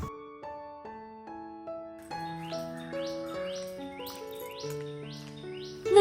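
Birds chirping on a quiet morning: bright, repeated chirps at an even pace rise above steady, sustained melodic tones, fairly faint and with no talking.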